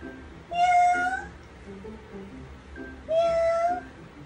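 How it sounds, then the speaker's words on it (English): Two distinct cat meows, each a clear rising-falling cry about two and a half seconds apart, fairly close with quiet background between them. "Meow! Meow! It's a cat!"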